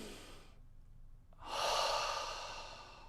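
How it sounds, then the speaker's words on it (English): Deep breaths drawn close into a microphone: a soft rushing inhale, a short silent gap, then a louder, longer airy exhale that slowly fades. "hearing my deep breathing in the microphone"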